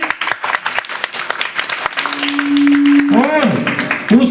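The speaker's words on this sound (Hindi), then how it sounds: "तो तालियां बजाएं उनके लिए।" Audience clapping at a public speech in Hindi, a brief burst of applause mixed with voices and a sustained tone, sounding close and fairly loud.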